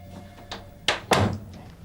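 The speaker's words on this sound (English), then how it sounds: "Oh, Joe, shut the door" A door is shut in a police station office, giving two firm thunks in quick succession, close and fairly loud against a quiet room.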